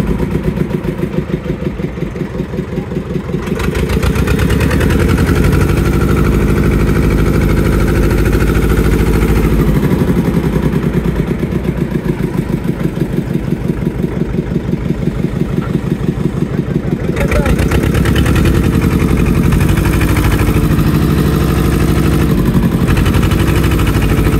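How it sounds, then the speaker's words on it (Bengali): A fishing trawler's engine chugs at sea with a loud, steady, low diesel throb and rapid pulsing rhythm, running continuously throughout. "আমরা ট্রলার ঘুরিয়ে আমরা যে পথ দিয়ে সাগরে যাই সেই পথেই চলে যাচ্ছি"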